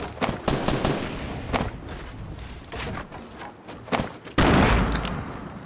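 Loud video-game gunfire from a grenade clutch round: rapid bursts and single shots crowd together, with sharp heavy blasts near the end and no clear speech over them.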